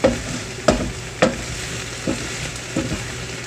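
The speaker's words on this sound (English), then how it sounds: "This is just going to simmer." Thai turkey stir-fry simmering in a pan over steady low sizzling, broken by about five sharp spatula scrapes and knocks that grow fainter toward the end; no voices.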